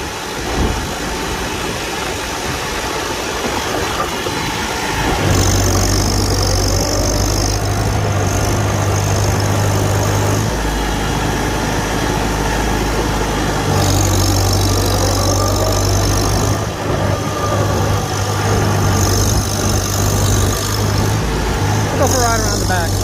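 A 1949 Farmall Super A tractor drives along a new road, its engine giving a steady mid-pitched drone with the whine of straight-cut gears that rises and fades in stretches, loud and close.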